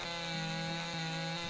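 A chainsaw cutting a spruce tree in the farming game Farmer's Dynasty, a loud continuous buzzing whine with a few pitch dips as the blade bites, alone without talk.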